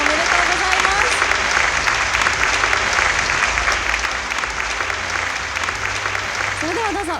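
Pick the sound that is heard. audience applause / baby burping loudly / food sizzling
audience applause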